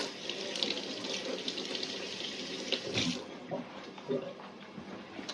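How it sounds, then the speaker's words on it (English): Hands are rinsed under a running kitchen tap after mixing garlic, onions and peppers. Water flows steadily and splashes close by, with a few louder splashes partway through and no speech. "Rinse my hands."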